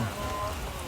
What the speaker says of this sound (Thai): ฝนตกนะครับ ผมฝนตก